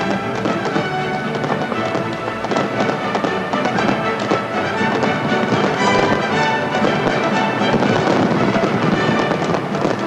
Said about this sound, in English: a spectacular finale of fireworks and 1 million people there to witness them